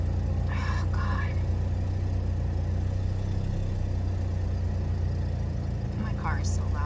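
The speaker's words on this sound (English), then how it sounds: "my car is so loud right now" A loud car engine idles with a steady low rumble throughout, with brief snatches of nearby voices over it.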